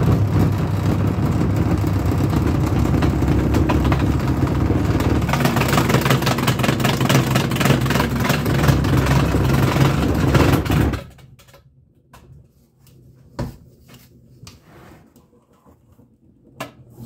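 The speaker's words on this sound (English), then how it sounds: "It makes an awful racket when you run it, and the entire assembly will walk across the countertop." A homemade pool ball washer runs with a loud, continuous motorized rattle and racket for about eleven seconds, then shuts off, leaving quiet with a few scattered clunks.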